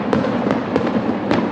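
Fireworks going off at night: dense, continuous crackling and popping with several sharper bangs, steady and fairly loud throughout, no voices.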